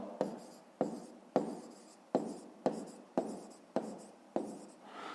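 Pen strokes write in a school notebook during a fifth-grade maths exercise, eight sharp scratching bursts at a steady rhythm, each fading quickly, close and quiet.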